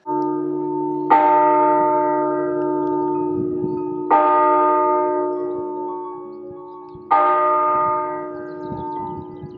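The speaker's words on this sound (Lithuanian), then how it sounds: "Žvelgdami šitą katedrą ir į jos bokštą, ką neseniai suskambėjo varpas" A church bell tolls three times at a slow, even pace, each deep resonant strike ringing out and slowly fading into the next.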